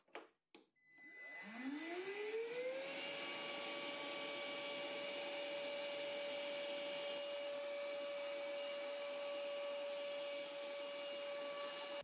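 A Carrefour cordless wet and dry vacuum cleaner clicks on, its motor whine rising quickly to a steady high-pitched hum that runs on alone, close by.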